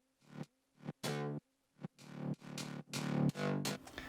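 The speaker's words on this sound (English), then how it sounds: "It's the boss pluck in Substance with some heavy distortion" A heavily distorted bass pluck synth patch from Substance plays a run of about eight punchy, separate notes that grow longer and louder toward the end, buzzy and upfront with nothing else underneath.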